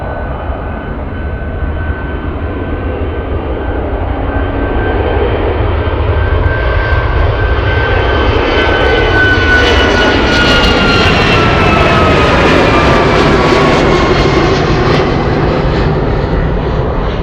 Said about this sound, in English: Let's go for the next takeoff. We have Alaska 47 flying to Seattle